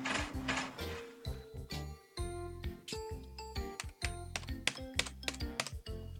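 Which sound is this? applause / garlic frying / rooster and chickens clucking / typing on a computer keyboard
typing on a computer keyboard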